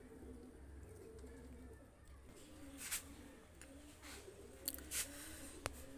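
Pigeons of the Salar and Golden breeds coo in low, repeating throaty phrases, close and steady, with a few sharp higher chirps and clicks scattered over the top.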